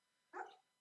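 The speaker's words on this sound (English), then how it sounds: "My dog's yelping." A dog gives a single short yelp, a brief sharp burst of about a quarter second that stands out alone against a quiet room, fairly close by.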